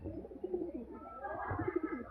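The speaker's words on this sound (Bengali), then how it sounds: "নর কবুতরটা" A male teddy pigeon coos softly and close by, a few low, throaty burbling phrases repeating over about two seconds with faint background noise.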